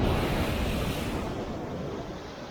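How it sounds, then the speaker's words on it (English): Ocean waves break near a cliff on a Hawaiian shoreline, a steady, loud roar of surf with wind noise on the mic. Near-constant wash that eases slightly over a couple of seconds. "the waves break before they get to the cliff"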